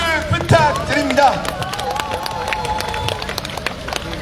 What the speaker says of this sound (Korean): 다시 한번 김상균 위원장님께 힘찬 환호와 박수 부탁드립니다.